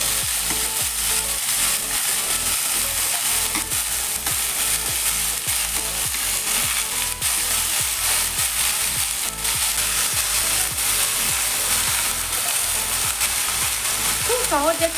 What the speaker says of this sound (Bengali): এটা সব একসঙ্গে দিয়ে রান্নাটা করব। আলু, মূলো, সিম, বেগুন, টমেটো